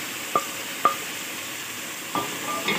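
A spoon stirs tomatoes into fried meat curry in a pan for aloo gosht salan: a few sharp scrapes and clinks against the pan over a faint low sizzle, spaced irregularly and fairly close.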